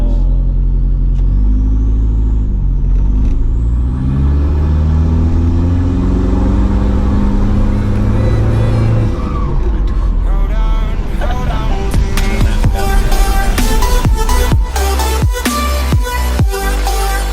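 A tuned Toyota Innova V 2014 with a 2KD diesel engine revs hard and loud up close, its deep rumble climbing in rising pitch sweeps, then giving way to rapid sharp bursts and stuttering revs near the end.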